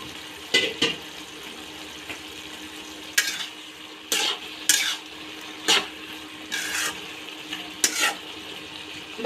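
Cabbage stir-fried with spiced chicken skin in a pan, with a soft steady sizzle broken by sharp, irregular spatula scrapes and clatters against the metal, up close and with no talking.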